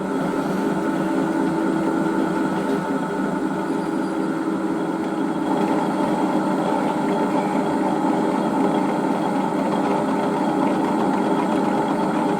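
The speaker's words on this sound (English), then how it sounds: "running the motor flat out, and the belt drives right down to give us enough torque, and I'm running a 3/4 end mill" A milling machine drives a 3/4 end mill through a heavy cut with its belt-driven motor at full speed, a steady loud mechanical drone with a constant rumble and hum for the whole stretch and no talk.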